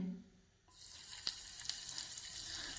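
Hot cooking oil sizzles steadily in a pan, with a few sharp crackles and pops, heard alone at moderate level after a brief quiet start.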